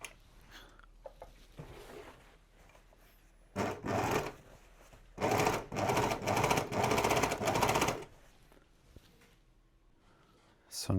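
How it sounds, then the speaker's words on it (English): An overlock sewing machine finishes denim edges in two loud, rapid, buzzing bursts, one short and one longer, separated and followed by quieter handling sounds, with a voice faintly present. "those edges will be cleaned up with the overlock"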